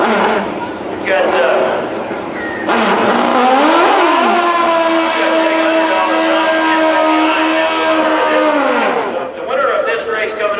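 Pro Stock drag-racing motorcycles with 1,500 cc four-carburetor engines and six-speed transmissions wail at high revs at Houston Raceway Park, climbing through gear changes, loud and sustained while a commentator talks over them.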